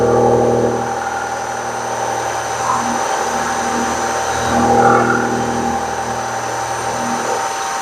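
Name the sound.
milling machine cutter making a cut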